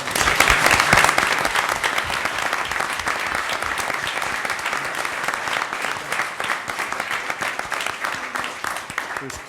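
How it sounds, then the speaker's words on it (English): A council-meeting audience applauds police officers, including a detective and a trooper, with steady continuous clapping that stays loud and even for several seconds, close and crowded, with no voices rising above it. "round of applause for all of you."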